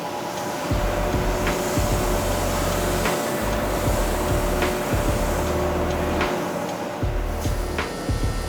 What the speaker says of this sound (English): The blades of the bevel squares are cut out on big sheets of stainless steel